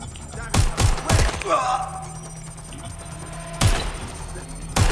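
Video game gunfire comes in several sharp, loud bursts, with a pair of shots early, another cluster, then a lull filled by a whooshing electronic sweep and steady hum before more shots near the end.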